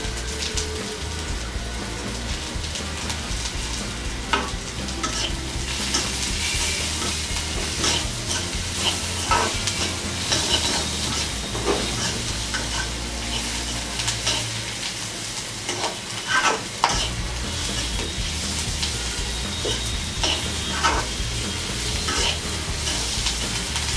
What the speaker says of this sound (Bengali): আমার পেঁয়াজটা ভালো মতো ভাজা হয়ে গেছে